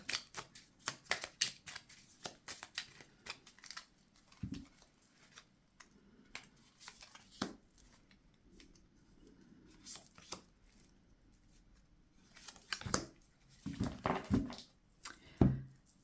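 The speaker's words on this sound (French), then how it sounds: "Moi, je vais placer une carte réponse devant chaque pierre." Tarot answer cards placed down one after another, making soft papery slaps and shuffling sounds in clusters with quiet gaps between them, close and faint.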